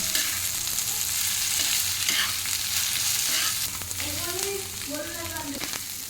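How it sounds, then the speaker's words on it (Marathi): Sliced onions with a ground green chili and garlic paste sizzle in hot oil for a village-style onion thecha, a steady fry with spatula scrapes and stirs throughout, a few brief vocal sounds near the end. "आता आपल्याला हे मिरची लसूण वाटून घेतलेलं आहे ना हे चांगलं परतून घ्यायचं"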